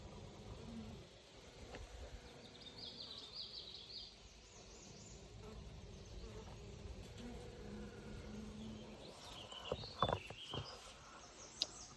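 A steady insect buzz fills the background, a low droning hum from many bees in a hive opened for inspection, with a few sharper rustles and clicks near the end.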